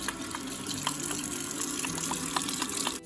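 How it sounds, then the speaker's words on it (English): Kitchen tap water pours steadily into a sink during washing up, a continuous close gush with faint clinks and splashes scattered through it and no speech. "Time to wash up. Scrub-a-dub-dub."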